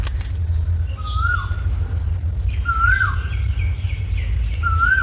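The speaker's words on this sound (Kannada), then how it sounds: "ಎಷ್ಟು ಚೆನ್ನಾಯ್ತಲ್ಲ ಕೋಗಿಲೆ ವಾಯ್ಸು" An Asian koel calls outdoors in repeated rising-then-falling whistled notes, three clear phrases spaced a couple of seconds apart, over a steady low rumble of traffic and ambient noise.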